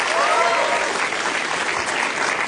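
Audience applause for a stand-up comedian as he takes the stage, a dense, steady wash of clapping from a crowd, loud and continuous throughout.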